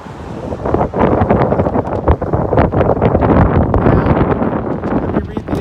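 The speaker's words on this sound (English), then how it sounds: "It's pretty windy." Strong wind buffets the microphone outdoors near Lisbon, Maine, a loud, continuous rumbling roar with gusty surges throughout and no clear talk.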